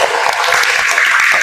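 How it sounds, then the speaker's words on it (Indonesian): Brief loud applause from a classroom group of teachers in training, dense clapping filling the whole moment. "tepuk tangan untuk kelompok 1"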